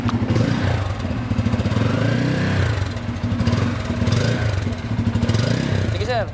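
A 2024 Bajaj Pulsar N250 motorcycle with dual exhaust revs up close by, its loud, throbbing engine rising and falling several times, while voices speak over it.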